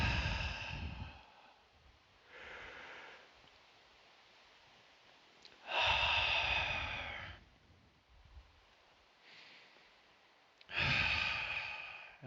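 Slow, deep meditative breathing, with long audible breaths and sighs in a regular cycle of about three breaths separated by quiet pauses, close and soft, no talking.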